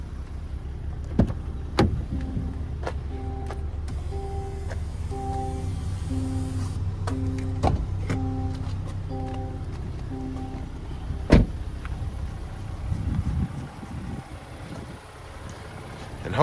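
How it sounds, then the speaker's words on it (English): Inside a 2023 Land Rover Defender 90X, the hood release is pulled with a few sharp clicks and a thunk over a steady, repeating warning chime and low cabin hum. No one speaks. "I'm going to go in here and pop the hood so we can take a look at the engine bay."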